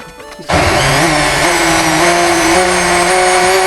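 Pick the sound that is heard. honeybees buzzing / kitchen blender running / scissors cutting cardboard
kitchen blender running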